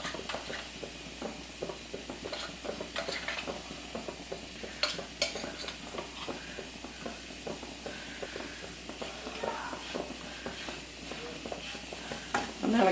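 Turmeric, chili and coriander powders being stirred in a hot frying pan: a close, rhythmic run of spoon scrapes and clinks over a constant sizzle, with no talking.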